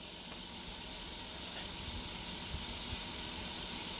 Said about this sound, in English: That's the best I've ever heard that motor sound.